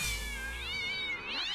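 A zombie cat from South Park: The Stick of Truth lets out a loud, drawn-out, wavering meow that rises and falls in pitch like a caterwaul, with no talking over it.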